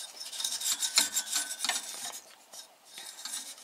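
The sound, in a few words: brush cleaning dust from a computer system unit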